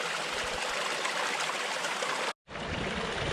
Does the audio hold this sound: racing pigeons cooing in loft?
no